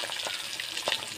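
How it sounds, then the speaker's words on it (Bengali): Fish pieces sizzle as they go into hot oil in a village kitchen, a short close crackling fry with a few sharper spits. "গরম তেলের মধ্যে মাছগুলো দিয়ে দিচ্ছি"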